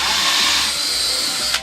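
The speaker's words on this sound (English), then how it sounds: "why is the Canoe using a DeWalt drill?" A high-pitched motorized whine of a DeWalt cordless power drill runs steadily, close and loud, then cuts off abruptly near the end.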